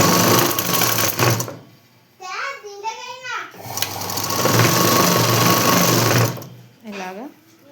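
A sewing machine stitches fabric in loud, steady bursts of whirring, stopping and starting, with a voice talking in the pauses between runs.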